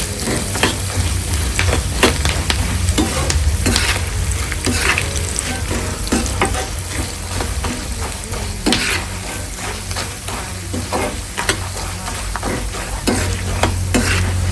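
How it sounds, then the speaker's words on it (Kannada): Peanuts and curry leaves splutter in a small pan of hot oil. The frying is a loud, continuous sizzle with rapid crackles and the scrape of stirring, and no voices are heard. "ನಮ್ಮ ಸಣ್ಣದು ಬಾಣಲೆ ಇಟ್ಕೊಂಡಿರೋದ್ರಿಂದ ಪಟ ಪಟ ಸಿಡಿತಾ ಇದೆ."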